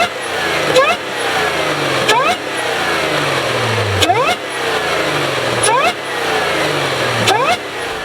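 An Audi S5 fitted with an ECS carbon intake revs repeatedly, its engine swelling and dropping in several rising pulls with sharp gear-like transients, loud and close with no talk.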